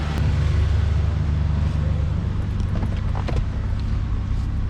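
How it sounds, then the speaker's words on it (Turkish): Low, steady rumble of a truck engine idling nearby beside a parked used luxury car in the United States, loud and continuous with a faint windy hiss and a few light clicks. "Şu an ses arkadaşlar tırdan geliyor, arabadan gelmiyor."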